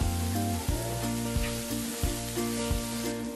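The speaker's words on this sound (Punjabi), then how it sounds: "ਇਸੇ ਤਰ੍ਹਾਂ ਹੀ ਆਪਾਂ 1 ਮਿੰਟ ਵਾਸਤੇ ਹੋਰ ਪਕਾਵਾਂਗੇ।" Ghee-based tadka for restaurant-style dal with garam masala sizzling in a pan, a steady frying hiss with repeated clinks of a spoon stirring against the metal, close and fairly loud with no talking.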